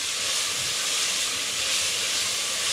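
Onions sizzling in a pan while cooking palak paneer, a continuous loud, even frying hiss with no pauses.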